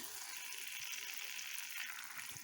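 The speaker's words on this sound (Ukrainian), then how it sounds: "Ще хай трошки покипить, щоб масло трошки випарувалося, бо олійка ще є" Mushroom pâté simmering in oil to cook off the excess, giving a faint, steady bubbling hiss and sizzle without any other sounds.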